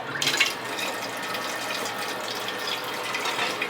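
Cold water runs steadily from a tap into a sink, a continuous close hissing splash with a slight burst at the start.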